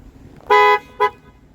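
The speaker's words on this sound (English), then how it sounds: "That's the car alarm." A 2022 Mazda CX-5 2.5 S Select Package car alarm, set off from the key fob, blares its horn twice, a longer blast followed by a short toot, loud and close with no speech.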